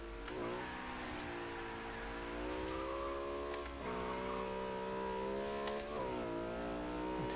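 Car engine revving on a runway in the racing game Forza Horizon 3, a steady mid-pitched engine note that climbs and drops through several gear shifts, loud and continuous with no talk over it.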